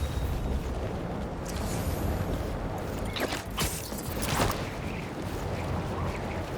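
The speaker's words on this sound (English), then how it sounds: "Fireworks! Probably without a permit." Fireworks burst in the open-world game Marvel's Spider-Man 2 over a New York City night, a dense rumbling barrage of booms and crackles continuing throughout with a few sharper pops standing out mid-sequence.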